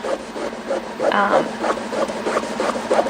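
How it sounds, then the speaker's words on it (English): Steady scratchy rubbing on a saturated top layer of a mixed media canvas, repeated strokes at close range, with a brief murmur of a voice partway through. "So just keep going and rubbing and rubbing and rubbing"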